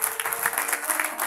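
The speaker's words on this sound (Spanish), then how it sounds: "Denle un aplauso al Señor." A church congregation applauds for the Lord, dense rapid clapping at moderate volume, steady and continuous through the brief moment.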